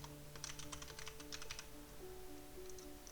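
Quick bursts of keystrokes on a computer keyboard, soft and close, come as several rapid clusters followed by a pause and a few more taps.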